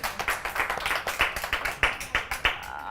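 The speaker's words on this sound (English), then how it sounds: "Can we clap for her?" A few people clap in quick, uneven bursts for a few seconds, close by, with no talking over it.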